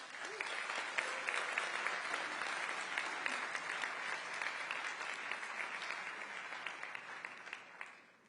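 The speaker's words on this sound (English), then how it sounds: "please give me a huge round of applause for the incredible Honor Magic V6" Sustained, broad applause fills a hall at a launch event for the Honor Magic V6 phone, steady for several seconds before tapering off at the end.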